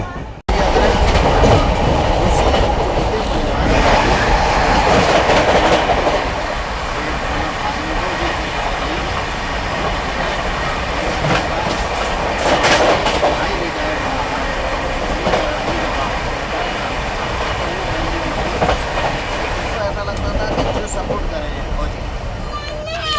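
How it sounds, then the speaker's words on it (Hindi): Rail noise from the North East Express on an Indian line running between Anand Vihar and Kamakhya: a steady, loud wash of rolling wheels with faint clickety-clack that continues throughout, while a voice talks over it. "एंड जस्ट अभी क्रॉस होने वाली है हमारी नॉर्थ ईस्ट एक्सप्रेस"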